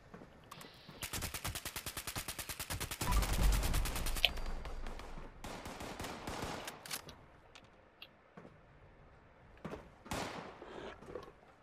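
An automatic rifle fitted with a quick magazine fires in Fallout 76, loud rapid bursts of shots in quick rhythm followed by scattered single shots and short volleys, with no voices.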